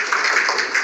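A short burst of crowd applause at a teachers' day ceremony honouring teachers, with a dense patter of many hands clapping for under a second.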